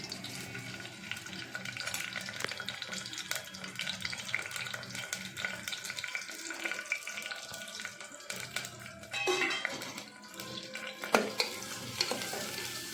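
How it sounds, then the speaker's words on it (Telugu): Onion pieces frying with shahjeera in a pan for a green chilli mutton curry, a steady close sizzle that runs throughout with occasional stirring scrapes and clinks, no talking. "షాజీరా వేగాక అందులో ఉల్లిపాయ ముక్కలు వేసుకోవాలి"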